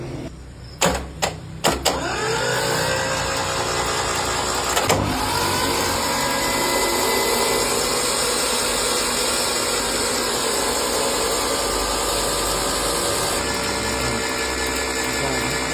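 An Iseki tractor engine under restoration starts with a few sharp clattering bursts, then settles into a steady, close mechanical running drone with injection pump ticking throughout.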